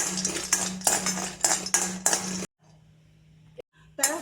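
Almonds and four cardamom pods are stirred in a hot pan for homemade protein powder, giving rapid metallic scraping and rattling clinks, close up. A brief quiet gap falls near the end before the stirring picks up again.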